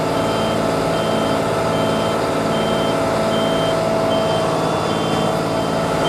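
A UK HGV truck reverses with steady, repeating reversing beeps over a constant engine rumble, loud and close with no break for about six seconds.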